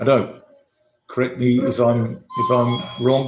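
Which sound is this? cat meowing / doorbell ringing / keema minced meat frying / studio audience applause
doorbell ringing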